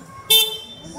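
A short, loud car horn honks suddenly, close by on a street in Osaka, Japan, lasting a fraction of a second amid faint background noise.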